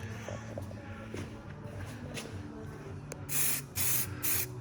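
Spray gun laying a paint coat on a C5 Corvette, three loud close hissing bursts in the second half following softer shuffling and handling noise.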